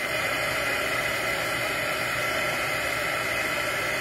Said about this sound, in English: So I'm going to get my heat gun